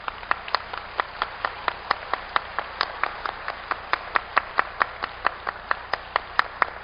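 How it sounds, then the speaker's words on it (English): At an academic conference session on Buddhist women of Korea, the audience claps in a steady, evenly spaced rhythm, sharp distinct claps at about three per second, moderately quiet and unaccompanied by talk. "Can we please give a big applause to her?"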